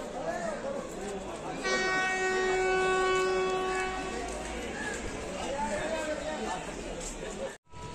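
A train arrives at Sainthia railway station in West Bengal, sounding one long, loud horn blast of about two seconds over a steady rumble, with people talking nearby on the platform.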